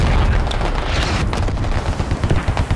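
In the video game Squad, an anti-tank explosive goes off amid combat: heavy, booming blasts and rumbling detonations, with rapid cracks of gunfire layered throughout. There is no speech.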